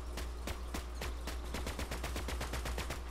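Rapid gunfire in the video game Fortnite, a fast regular string of sharp shots over a steady low hum, loud and continuous with no talk.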